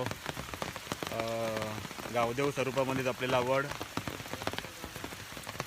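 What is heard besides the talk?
rain falling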